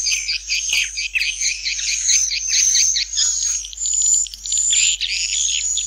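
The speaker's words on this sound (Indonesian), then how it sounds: "Suara burung walet gratis," Dense, high-pitched chirping and twittering of swiftlets, many overlapping calls in a continuous flock chorus with no talking.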